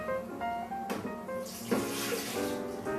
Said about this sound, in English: Simply put your wine into the Jaconi blender.